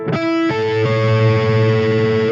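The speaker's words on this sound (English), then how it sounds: "Because when you're using distortion, that doesn't sound very nice." Heavily distorted electric guitar arpeggio notes ring out together in a sustained, buzzing chord, with a new note added partway through, loud and alone.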